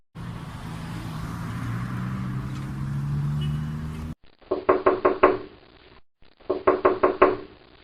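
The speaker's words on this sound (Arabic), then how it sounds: "جبران بالله كانك قوم افتح الباب وخلينا نتفاهم مع هذا متفلسف معانا" Two quick bursts of knocking on a door, each a rapid series of raps, come after a few seconds of low rumbling car traffic, with a short pause between the sets of knocks.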